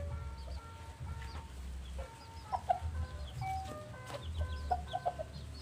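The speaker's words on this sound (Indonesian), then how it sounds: "ini adalah ayam saya, peliharaan saya" Pet chickens raised for about three months cluck softly nearby in short scattered bursts over a quiet low background hum.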